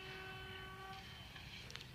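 On a heavy fog day, a goods train hauled by locomotive GEU 40 9001 gives a faint, distant whistle: a steady tonal blast for about a second that fades into low rumbling background noise.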